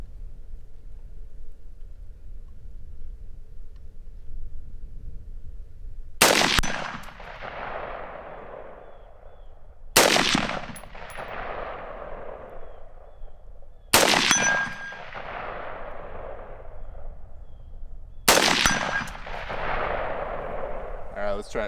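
Rifle shots ringing off a 7-inch steel target at an outdoor range, four loud sharp reports spaced roughly four seconds apart, each followed by a long fading echo over steady background noise.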